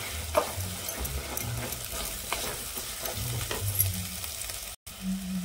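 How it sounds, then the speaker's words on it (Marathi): Malvani masala with grated coconut roasting in oil in a pan, sizzling and frying steadily with intermittent stirring scrapes, close and moderately loud. "यातनं तेल सुटेपर्यंत आपल्याला हा मसाला भाजून घ्यायचा आहे"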